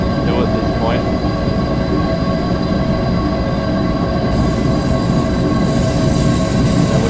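Heavy train in Train Simulator Classic, Hamburg route, thrown into emergency braking: a loud, steady rumble of rolling wheels and brake roar fills the whole stretch, with faint squeals and a shift in tone partway through.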